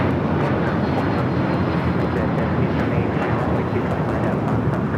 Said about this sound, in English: United Airlines 247 taking off to Newark on the 757-200